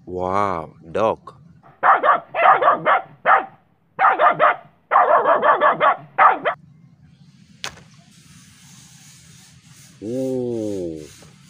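A dog gives a series of sharp barks in clustered bursts, loud and near, with a human voice heard briefly before and after them.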